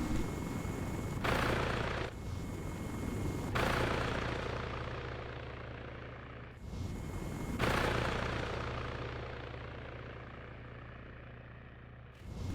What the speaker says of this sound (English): the first full helicopter of the day